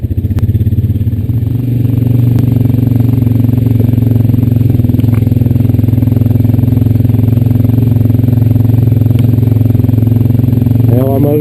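A Honda Rancher 420AT ATV engine runs steadily while riding a dirt trail, a loud close continuous drone that shifts slightly in pitch with a faint clatter.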